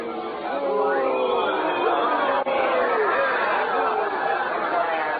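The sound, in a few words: crowd cheering in the streets, radio drama sound effect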